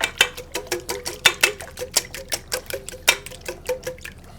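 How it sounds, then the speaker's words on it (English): A whisk beats eggs with milk, salt and pepper in a bowl, giving quick, steady clacks at roughly four strokes a second, close and clear with no talking. "You can give that just one more whisk for me."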